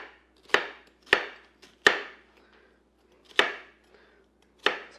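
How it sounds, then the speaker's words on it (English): Onion being diced with a knife on a wooden board: five sharp, close chops at uneven intervals with near silence between them. "I cut it for this purpose, and then just into small to medium-sized dice"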